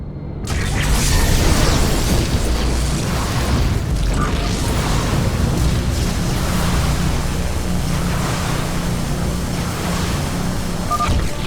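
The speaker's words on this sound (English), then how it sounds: "We have destroyed the Tal'darim mothership." Continuous rumbling explosions and heavy booms roll on as the Tal'darim mothership is destroyed in StarCraft II, a dense, loud wash of blasts and debris with no clear pauses.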